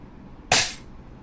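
Double Bell VSR10 airsoft sniper rifle fires a single sharp, close shot that decays in about a quarter second, with quiet room tone before and after.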